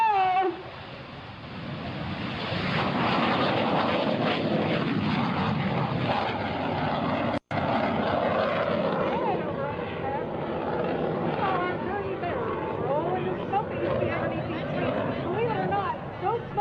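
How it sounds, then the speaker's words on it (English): A Red Bull MiG-17 jet roars past at an airshow, a loud sustained engine rush that swells and fades with a crowd and announcer talking throughout. "The Red Bull MiG-17 smokes on, borders red."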